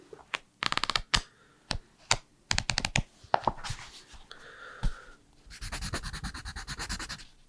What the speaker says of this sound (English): Let's write those measurements down.